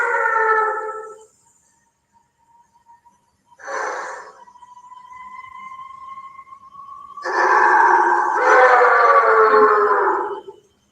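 Several wild animals howl and scream in bursts, with a long wavering howl carrying between louder overlapping outbursts of cries, fairly close and with no talking.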